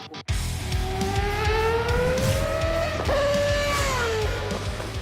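Mazda cars at the Okayama racing circuit, a former Formula 1 track, during a Mazda fan festival; engines drone and rise steadily in pitch as cars pass close and loud, a continuous roar with shifting tones.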